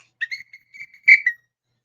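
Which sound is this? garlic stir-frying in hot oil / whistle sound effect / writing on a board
whistle sound effect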